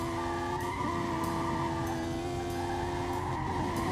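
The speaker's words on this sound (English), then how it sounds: "The wheels are spinning at 200 miles an hour." A car in Roblox Southwest Florida runs its engine hard at very high speed with a steady tonal whine and a faint tire squeal, heard continuously and close up.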